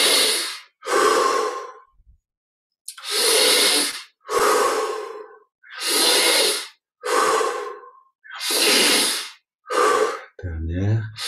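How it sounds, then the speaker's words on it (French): Deep, slow breathing during a guided meditation, about eight long, loud breaths alternating inhale and exhale, each lasting over a second with brief silences between, closely miked; a voice begins speaking at the very end. "Encore 5 respires, un peu plus d'amplitude dans la respire."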